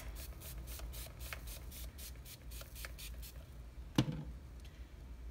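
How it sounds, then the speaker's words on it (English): Cooking spray hisses onto bread in a series of short, rapid bursts, close up, followed by a single sharp knock. "So I'm going to spray this."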